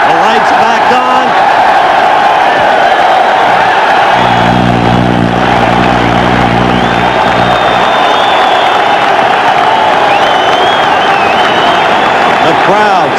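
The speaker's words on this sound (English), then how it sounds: "The crowd speaks for itself." A boxing arena crowd for a middleweight title fight roars in a steady, loud wash of cheering and noise, with a low rumbling hum swelling midway and an announcer's voice over it.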